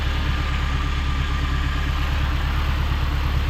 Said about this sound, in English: Waiting for the car to warm up a little bit so I can see how it sounds.